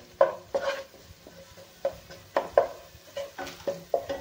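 A spoon stirring and scraping coriander powder and red chili powder in a pan while sautéing for pav bhaji, making irregular close taps and scrapes over a faint sizzle, with no talking.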